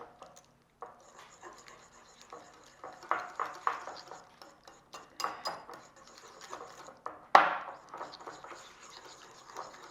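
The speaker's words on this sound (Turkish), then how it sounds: "Sıvı malzemeleri ve kuru malzemeleri kendi arasında karıştırıyorum" Liquid and dry ingredients for gluten-free, refined-sugar-free Christmas cookies are mixed in a bowl, making soft, irregular scraping and tapping with one sharper clink, fairly quiet and close, with a faint steady hum underneath.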